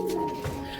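A pet pigeon gives a short low coo up close, a brief throaty murmur with no talking over it.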